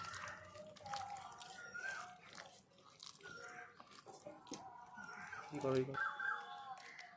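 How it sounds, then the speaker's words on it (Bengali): Bael fruit pulp is mashed and squeezed by hand, giving wet, squelching and dripping sounds in uneven pulses, heard close up under a voice talking. "ভালো করে চেটকে নিতে হবে, যাতে ছাকলে পরে শুধু আঁশ আর বিচিগুলো থেকে যায়"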